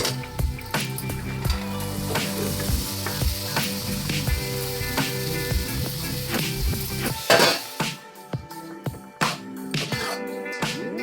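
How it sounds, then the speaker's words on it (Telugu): Boiled chana dal tipped into a hot pan of sizzling oil for a chana dal curry, with a dense, loud crackle under busy clatter of a spoon against the pan, then the sizzle fades to scattered scrapes and taps. "ఇప్పుడు పప్పు, ఉడికించిన పప్పు వేసుకుందాం."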